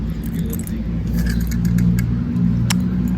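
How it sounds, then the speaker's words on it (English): A toy car pushed hard across a rough soccer field, giving a close, continuous rattling and scraping roll with light jangly clatter for about three seconds. "Let's see if I push my car with force, how far it goes."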